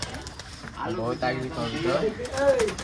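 Old-breed Giribaz flying pigeons coo close by in soft, throaty, rolling calls that repeat and overlap over a faint background hum.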